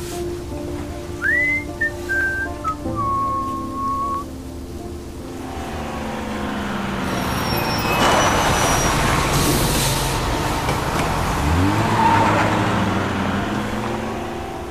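A bus in the video game Road 96 pulls in: whistling tones early on, then a rising engine roar and hiss that swells and settles near the end, with no talking.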